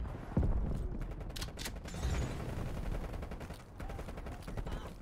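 Rapid automatic gunfire from a QBZ assault rifle in the video game Call of Duty Black Ops, loud sustained bursts crackling close by with no talking over them.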